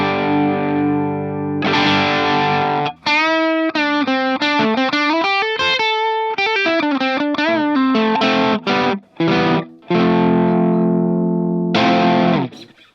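Electric guitar runs through a Nobels ODR-1 overdrive pedal set to low gain, giving a lightly broken-up tone as single notes and chords ring out alone, close and steady, with brief gaps between phrases.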